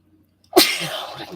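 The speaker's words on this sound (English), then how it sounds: "Let's sneeze again." A single sharp, loud human sneeze bursts out close up after a moment of near silence, followed by a brief trailing exhale, in a home room beside a gaming PC setup.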